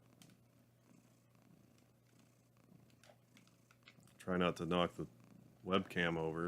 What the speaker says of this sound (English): just patting him. I don't know if you can hear him purring at all.